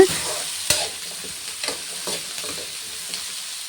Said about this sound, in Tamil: சீரகம் குருமிளகெல்லாம் போட்டுக்கலாம் பட்டை சோம்பு எல்லாம் போட்டு நல்லா வணக்கி எடுத்துக்கலாங்க